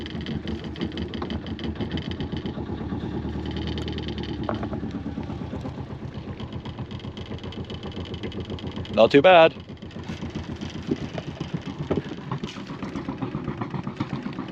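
A boat engine idles with a steady low throb throughout, while a person speaks briefly over it.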